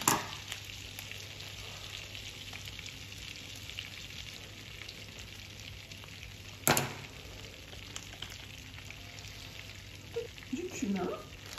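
Garlic and paprika sizzling in a pan in a home kitchen, a constant low hiss with a sharp clatter partway through and a few utensil knocks near the end, with no talk.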